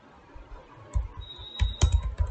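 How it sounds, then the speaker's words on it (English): Typing on a computer keyboard in a quiet room, a short run of close, crisp key clicks that picks up in pace toward the end. "here type Jupyter"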